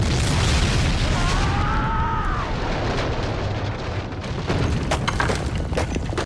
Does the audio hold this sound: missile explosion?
yes